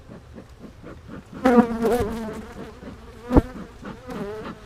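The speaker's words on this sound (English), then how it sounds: "Hive is packed up with bees" Honey bees buzz in a dense, steady drone around a hive packed full of bees, close and loud, with a few sharper swells as individual bees pass near.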